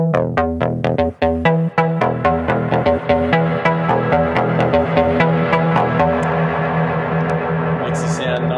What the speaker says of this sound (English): I've just automated the amount of Reverb Send